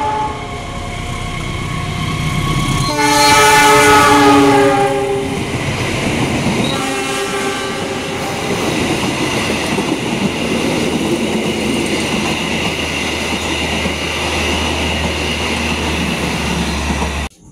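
A Lodaya passenger train passes Gede Bage station in Indonesia, sounding its horn in loud blasts before a steady, close rumble of wheels and carriages rolls by for over ten seconds.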